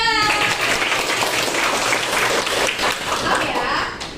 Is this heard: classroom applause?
yes